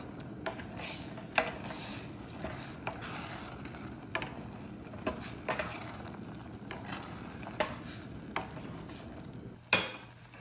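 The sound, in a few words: stirring ful (fava beans) with added water while cooking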